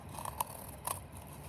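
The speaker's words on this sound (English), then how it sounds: "I'm gonna take my scissors and I'm going to carefully cut" Scissors snip spare weaving yarn off the side of a loom in two or three quiet, crisp cuts close by, with no talk.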